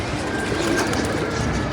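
A pigeon arriving coos low and soft beneath a steady, loud wash of background noise that continues unbroken throughout.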